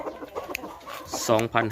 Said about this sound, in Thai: พามาดูไก่หนุ่มนะครับ ยังอยู่นะครับ